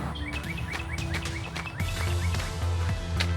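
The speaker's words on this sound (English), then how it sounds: "I'm out here listening to the birds chirping" Repeated bright chirps and short calls from birds outdoors on a cold early morning, several birds overlapping at moderate distance over a low background rumble, with no talking.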